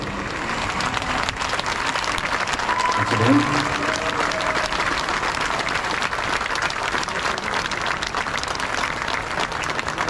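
Concert audience applauding at an evening show in Bacău, a steady wash of clapping filling the room, with a voice briefly speaking over it.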